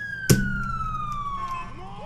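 A police car siren in GTA IV with the LCPDFR mod: a steady descending wail that fades as it is switched off, preceded by a short sharp click, over a low engine hum.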